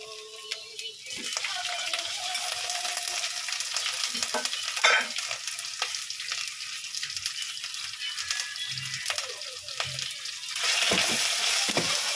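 Pork for afritada sizzles and fries in a pan with steady broadband hiss, punctuated by occasional stirring scrapes and clinks, close and continuous with no talk.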